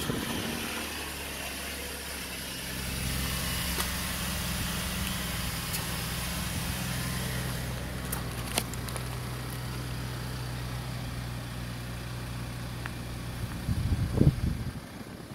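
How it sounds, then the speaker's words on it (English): A 2016 Chevy Equinox idles after a remote start. It gives a steady, low, even engine hum throughout, with a short clatter near the end and no voices. "Remote start."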